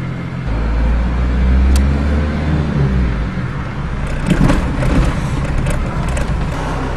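A car cruises along country roads, its interior filled with a steady low engine and tyre rumble, fairly loud and constant, with a few light knocks toward the end.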